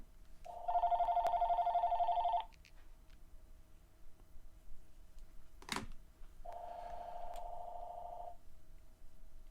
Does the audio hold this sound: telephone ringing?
yes